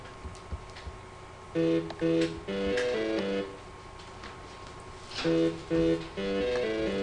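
A synth tone from a GMS plugin in FL Studio wobbles in pulsing, stepped bursts that swell and cut out in a rhythmic pattern, with a quieter steady hum between phrases.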